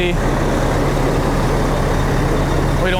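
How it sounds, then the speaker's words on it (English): Loud, continuous road noise from a car passing near a crashed fire hydrant at an emergency scene, a broad close engine and tire rumble with no pause. "I saw a car come through"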